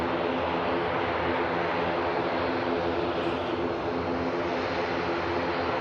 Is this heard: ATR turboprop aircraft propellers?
yes